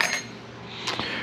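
Loose screws from a Riccar N2200 vacuum being sorted, a few light metallic clinks at the start and again near the end, faint and close.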